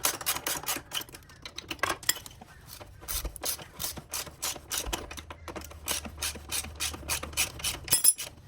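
A ratchet wrench works 17 mm nuts off the suspension linkage of a Yamaha Tenere 700, giving quick, close runs of sharp clicking bursts with brief pauses between strokes.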